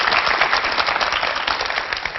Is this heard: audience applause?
yes